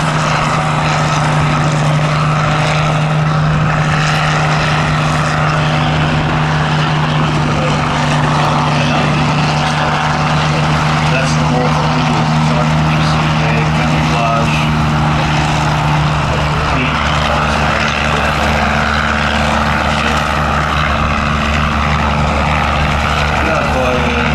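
A loud, droning aircraft engine holds steady throughout as planes, including a Bell 47 helicopter and a Cassutt Special racer, fly along the flight line at the Midlands Air Festival, with a public-address announcer talking over it.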